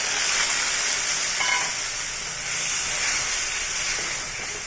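Cumin and ginger paste hits hot oil with browned onions, producing a loud, steady close-up sizzle and hiss that swells slightly in waves throughout.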